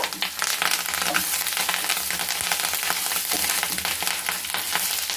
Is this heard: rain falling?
no